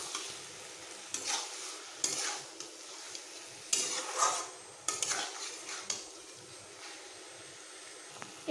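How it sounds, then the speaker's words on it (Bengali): Bottle gourd cooks with chilli and mustard paste in a pan, a soft sizzle broken by intermittent spatula scrapes and stirring knocks, close but fairly quiet. "এইবার আমি আরও একটু ভালোভাবে কষিয়ে নেব।"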